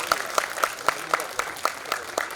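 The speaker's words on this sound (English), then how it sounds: "Yes, we clap for him." An audience at an awards ceremony claps in a sparse, loose rhythm, with separate hand claps roughly every quarter second over quiet room noise.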